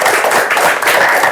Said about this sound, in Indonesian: Tepuk tangan dulu dong untuk anak bulanku